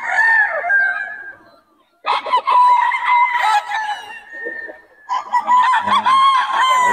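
Roosters crow loudly and close by in several long calls with brief gaps, and chickens are heard among them, at a poultry market in Bocaue.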